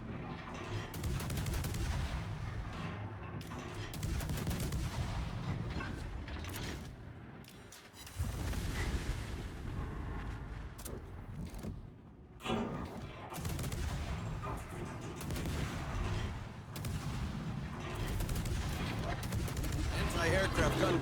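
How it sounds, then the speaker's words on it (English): Naval gunfire in World of Warships, heard from a cruiser dueling a battleship: heavy booming salvos and rapid gun reports roll on almost without pause, with someone talking over the continuous battle noise. "There's so many rounds going out between myself and the Hawaii right now."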